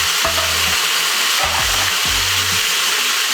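Pieces of turkey for birria sizzle loudly and steadily as they are added back into a hot pot, a dense hiss throughout. Low tonal hums come and go underneath. No talking.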